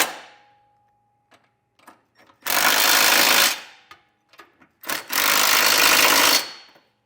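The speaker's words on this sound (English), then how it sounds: "you can come back with an 11/16 size socket and snug everything down" An 11/16 socket tool snugs down trailer hitch hardware on a 2020 Cadillac XT5 in two loud, harsh bursts of about a second or more, separated by faint clicks and handling noises.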